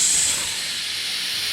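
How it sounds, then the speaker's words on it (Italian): A pressure cooker vents steam in a continuous loud, close hiss that starts strongest and then settles to a steady, even rush. "adesso lasciamo sfogare il vapore."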